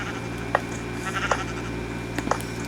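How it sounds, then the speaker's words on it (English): Sheep in a video game bleat in short nasal calls, four brief bleats spaced over a steady game background hum, close and moderately loud. "Shut up, sheep."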